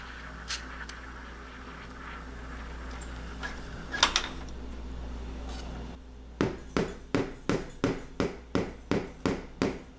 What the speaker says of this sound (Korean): 이렇게 거품 큰 게 있으면 몇 번 때려서 깨주시고요